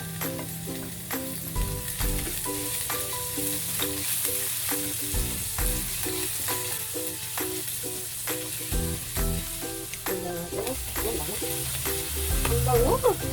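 Garlic frying in a pan for Filipino menudo, a steady sizzle with repeated spoon stirs and scrapes, close and fairly loud, with music-like tonal sounds throughout.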